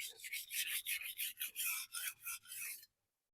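A carbon-clad Nasu Bunka kitchen knife is sharpened with about ten rhythmic, close-up rasping strokes back and forth, and then it goes silent.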